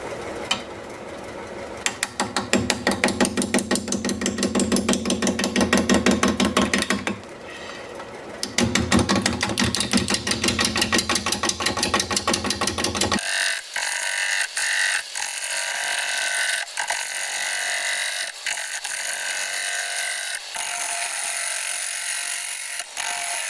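A 5/8 inch bowl gouge cuts a large maple burl bowl spinning on a lathe at 350 RPM, giving a loud, steady rattling chatter of interrupted cuts that shifts to a harsher, thinner scraping tone partway through.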